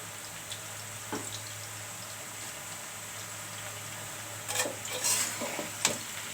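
Bottle gourd curry seasoned with turmeric and salt is stirred in a pan over a soft background sizzle, with quiet scrapes and a cluster of utensil clicks toward the end.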